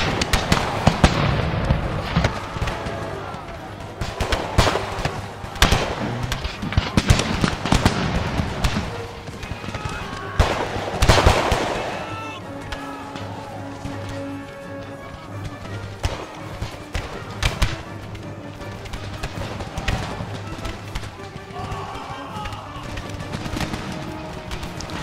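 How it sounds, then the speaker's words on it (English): Musket volleys from a battle in the strategy game Empire Total War crackle in irregular bursts of sharp shots, heaviest early on and thinning into scattered popping over a low background rumble. "So everyone is just firing on them now, it looks like."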